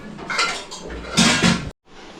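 Plates and dishes clatter while chapatis are served at home: two close, loud bursts of clinking and scraping tableware, then a sudden stop followed by a short, quieter clink.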